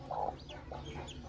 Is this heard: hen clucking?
yes